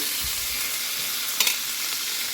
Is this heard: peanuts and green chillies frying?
yes